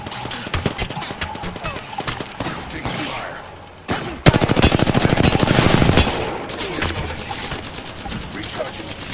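Machine gun fire in a video game, rapid bursts of automatic shots with a dense sustained burst in the middle, loud and close, with voices talking over parts of it.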